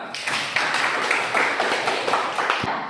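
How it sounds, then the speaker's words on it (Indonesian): A classroom full of people claps in sustained, fairly dense applause, moderately loud, with a few stray taps standing out near the end. "Berikan tepuk tangan."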